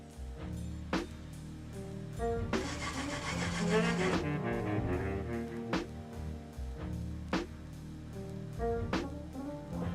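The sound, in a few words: chisels cleaning wood from dovetail tails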